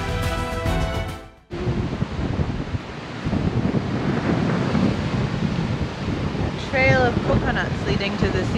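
Ocean surf rolls and crashes along the rocky shore of Forbidden Island on Saipan, a broad, continuous wash of waves under gusty wind noise, with a voice briefly heard near the end.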